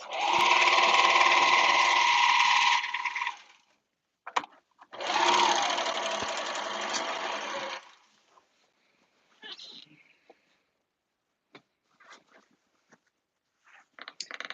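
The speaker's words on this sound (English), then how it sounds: "When you're serging, make sure that there's no fabric under." A serger runs through caftan fabric in two sustained bursts of a few seconds each, loud and close, followed by quieter handling clicks and brief scattered sounds.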